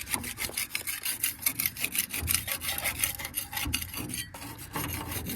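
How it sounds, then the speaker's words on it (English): A chisel and palette knife scrape grime off a part of a VW Beetle, making continuous, rhythmic rasping strokes up close with no talking. "So I'm using just a chisel and a palette knife just to get this"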